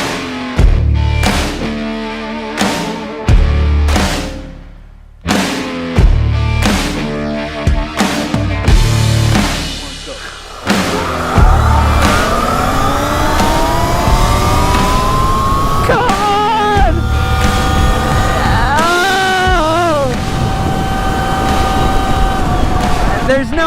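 A Sur Ron Ronster electric bike races another fast bike: rapid rhythmic mechanical bursts give way to a loud, rising electric whine that swells and dips as the bikes accelerate, with talking over the top.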